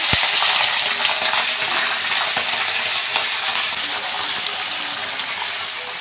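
Chicken pieces frying in a pan, a steady broadband sizzle with a sharp tap at the start, continuous and fairly close throughout.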